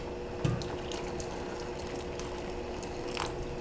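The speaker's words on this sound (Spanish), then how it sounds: "Y le vamos a poner un poquito más de agua. Yo ya tengo aquí agua caliente." Hot water poured into a pot of pargo (red snapper) fish broth while cooking, a steady soft liquid splash and trickle running throughout with a few brief clinks, fairly close and moderately quiet.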